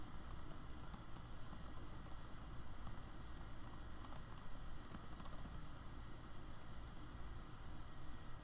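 Rapid, continuous typing on a computer keyboard, with soft clattering keystrokes running steadily under a low hiss, faint and close, with no voices.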